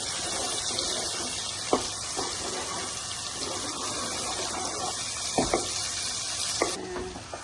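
Tomato paste frying in oil in a pan as bulgur is prepared, a steady soft sizzle with occasional sharp clicks and taps of a spoon against the pot, fairly quiet and close.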